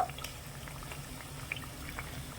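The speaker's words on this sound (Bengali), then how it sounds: "কিছুক্ষণের মধ্যে পাউরুটির টুকরোগুলো কিন্তু ভাজা হয়ে যাবে" Faint, continuous bubbling and crackling of bread pieces frying in oil, with tiny pops scattered throughout and no voices.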